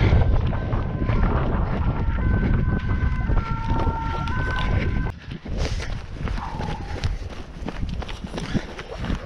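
Wind rushes and buffets the microphone loudly over rhythmic movement noise during a trail run through forest, with faint tonal whistles early on and rougher gusts in the second half.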